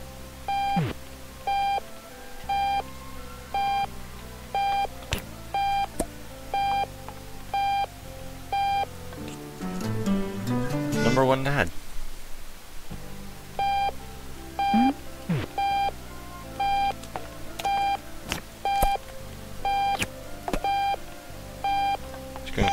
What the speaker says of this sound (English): I don't know who keeps their alarm clock all the way over across the room.